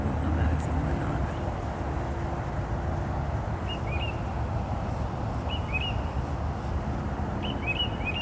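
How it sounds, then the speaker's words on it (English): Small birds chirp outdoors in the morning, a few short high calls repeating in brief clusters against steady low background rumble, faint and at a distance. "Pretty birds."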